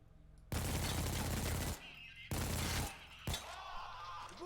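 Automatic weapon fire from PAYDAY 2, custom weapon pack, in sustained loud bursts: a long stream of rapid shots, a pause, a shorter burst, then another burst, close and dense with no talk.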